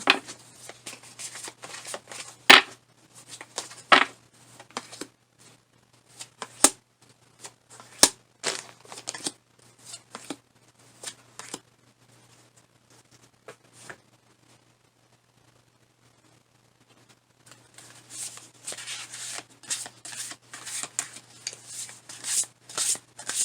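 Tarot cards shuffled by hand in bursts of quick riffles and soft slaps, close and clear, with a long quiet pause in the middle before the shuffling picks up again.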